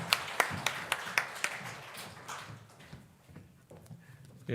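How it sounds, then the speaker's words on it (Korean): A church congregation at a revival service applauds to welcome a preacher, a burst of rhythmic clapping that starts strong and fades away within a few seconds. "우리 교수님 박수로 우리 환영하도록 그렇게 하겠습니다"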